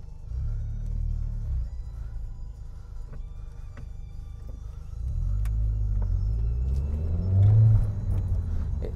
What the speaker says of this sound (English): It's a resonated Scorpion exhaust, which is wicked.